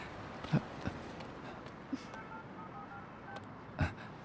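A phone keypad is dialed, producing a short sequence of quiet, steady tones in the middle of the stretch, along with a few soft thumps against faint background noise.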